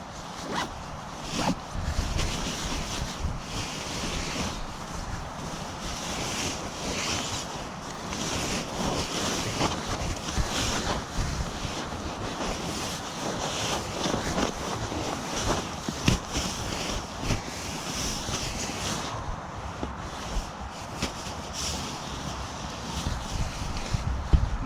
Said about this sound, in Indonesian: dengan angin yang sangat kencang